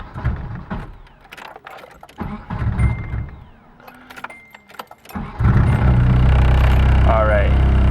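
Keys jangle, then a car with a KA engine and a replaced fuel pressure regulator cranks and catches, settling into a loud, steady idle up close; someone talks over the early handling.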